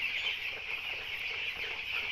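A poultry farm flock of young broiler chickens gives a continuous, dense chorus of high clucks and peeps. It is moderately faint and unbroken, with no voices.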